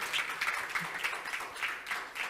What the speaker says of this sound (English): round of applause for 6 strings